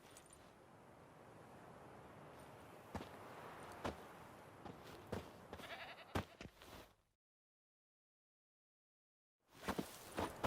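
A goat tied to a stake as bait in The Witcher 3 bleats several times in short bursts over soft ambient noise and footsteps, then everything drops to silence before the sound returns briefly.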